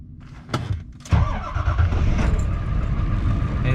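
A Ford 7.3 diesel dually with freshly changed glow plugs cranks in short loud bursts, then catches and settles into a rough, uneven running rumble that stays loud and close.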